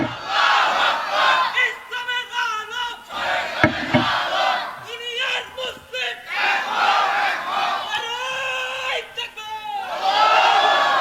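A gathered crowd at a Bengali religious sermon shouts the takbir, Allahu Akbar, in answer to the preacher. Loud massed voices rise in several bursts, with the preacher's talk between the responses.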